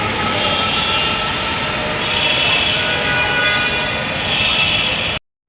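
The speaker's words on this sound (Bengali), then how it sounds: "অবশেষে আমরা মেট্রো রেলে চড়ে বসলাম।" Dhaka metro rail train running, a loud steady rolling roar with a faint electric whine from inside the carriage, continuous until the sound cuts off abruptly near the end.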